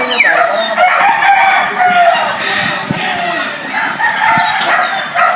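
A White Jacket gamefowl rooster crows loudly nearby at a Batangas game farm, followed by clucking from other fowl and a busy crowd-like murmur of birds.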